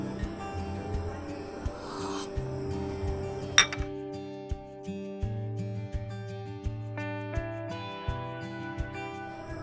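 Small tea glasses clink at scattered moments at a tea stall on Henry Island, Bakkhali, over a steady tonal background, light and close, with no voices.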